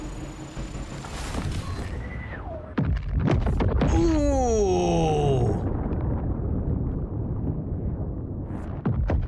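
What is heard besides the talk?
cannon bombardment explosions in video game Total War: Warhammer 40,000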